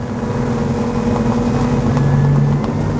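An XO 260 DSCVR motor boat cruising at 33 knots at 4,800 RPM: a loud, steady engine drone with a sustained tonal hum, rushing water and wind noise throughout.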